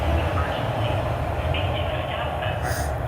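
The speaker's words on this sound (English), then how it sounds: "Oh no, that one's just going right through. That's not my train. That's an out of service train." An out-of-service train runs straight through a station without stopping, producing a steady loud rumble and rolling rail noise throughout, with a brief higher screech near the end.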